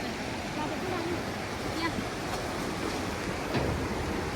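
A river flows beneath a hanging footbridge near Hetauda in Nepal, a steady broadband rush of water with wind buffeting the microphone throughout.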